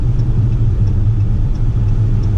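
Inside a 2020 Dodge Charger SXT on the move, a constant low road rumble and engine drone fill the cabin at a steady level, with no voices.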